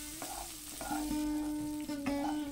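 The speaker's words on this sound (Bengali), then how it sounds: "1 মিনিট মতো কাজু কিশমিশগুলো ভেজে নেব।" A handful of cashews and raisins sizzles gently in oil, a close, continuous frying hiss broken by a few light stirring knocks, with a low tonal hum underneath.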